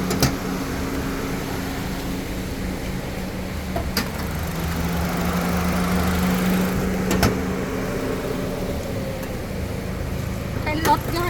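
Honda Jazz GK hatchback idling: a steady low engine hum with a faint tonal drone, under someone talking throughout.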